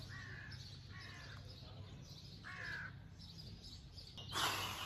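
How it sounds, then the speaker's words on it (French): Crows caw outdoors, three hoarse calls spaced apart at moderate distance, followed by a louder brushing noise close by at the end. "je déjeune en écoutant les oiseaux, écoutez."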